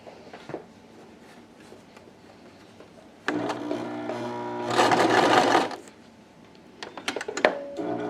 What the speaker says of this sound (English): so there you see I just stitched across the top